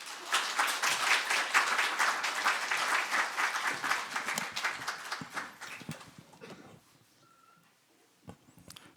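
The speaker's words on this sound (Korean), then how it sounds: "영광과 감사의 박수로 목사님 환영하도록" Congregation at a Wednesday church worship service claps loudly and steadily to welcome the preaching pastor, dense applause filling the room for about six seconds before thinning into a few scattered claps.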